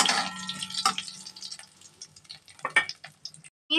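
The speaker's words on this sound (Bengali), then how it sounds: "এবার ফোড়ন হিসেবে দিয়ে দেব তেজপাতা, শুকনো লঙ্কা, গোটা জিরে বেশ খানিকটা। ফোড়নটা একটু ভাজা করে নেব।" Bay leaf, dried chilli and whole cumin tempering frying in hot oil, a crackling sizzle with sharp popping spatters that thins out toward the end, close and without talk.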